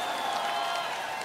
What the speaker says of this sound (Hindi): आप पहले ही तालियां मत बजाइए